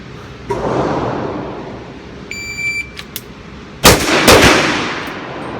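A Sig Sauer Nightmare .357 handgun fires on a range. A dull thump and a shot-timer beep come first, then two quick, loud shots close together, each with a brief echoing tail.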